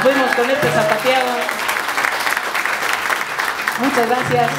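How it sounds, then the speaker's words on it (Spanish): Audience applause after a son jarocho zapateado dance number, a dense steady clatter of many hands filling the room, with a voice speaking over it at the start and again near the end. "Gracias, gracias por el aplauso."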